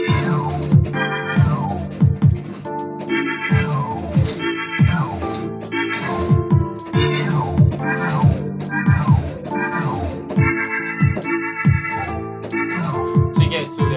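A piano plays repeated rolling chord runs, bright cascading notes over steady low chords, loud and close with no talking.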